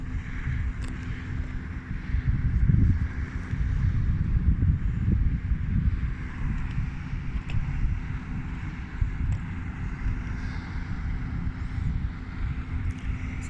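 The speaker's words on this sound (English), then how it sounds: "here comes another boat" A small homemade barrel boat drifts with its motor off as another boat passes nearby, a steady low engine drone with water sloshing and wind buffeting the microphone throughout, swelling slightly early on.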